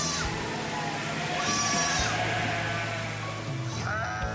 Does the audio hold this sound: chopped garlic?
no